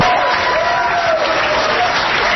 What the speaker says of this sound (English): Everyone's applauding, but meanwhile, they're applauding you.